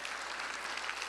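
Applause for composer Nathan Avakian at an international award show, a steady wash of clapping from a crowd that fills the whole short moment at an even level.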